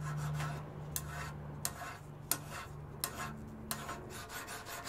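A file is drawn across a steel part in slow repeated strokes, each a short rasping scrape followed by a pause, close and fairly quiet with a faint hum behind.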